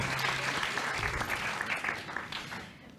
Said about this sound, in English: can we give a round of applause to our panelists before we start?